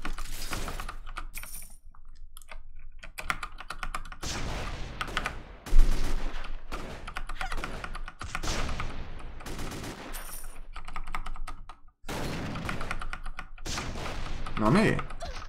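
Rapid gunfire crackles from shooting in the online game AQ3D as a pirate character fires, loud repeated bursts broken by brief gaps, with some talking mixed in.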